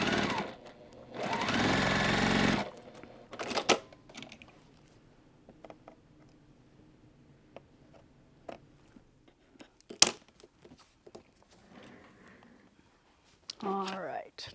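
A sewing machine stitches quarter-inch seams on quilt blocks, running in one steady two-second burst at the start. Softer mechanical clicks and handling noises follow, and a voice speaks.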